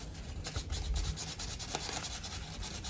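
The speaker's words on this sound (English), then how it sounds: "we're just gonna go ahead and take that down to bare metal. Just some sandpaper" Sandpaper rubbing a motorcycle frame down to bare metal, continuous close abrasive scrubbing with quick back-and-forth strokes and no voices.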